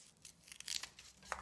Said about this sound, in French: Voilà, et on coupe le papier.